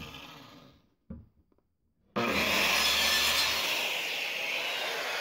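A hand saw cuts through a small piece of pine, after a couple of faint knocks, in a steady, close rasping stroke that runs continuously for several seconds.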